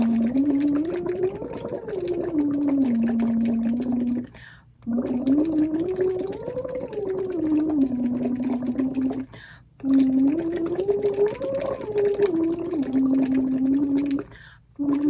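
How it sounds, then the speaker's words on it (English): Singing an arpeggio through a straw into a bottle of water: a hummed rising and falling tone with a continuous bubbling buzz, repeated in three long phrases separated by brief pauses. "we're just going to do it through the straw into the bottle of water"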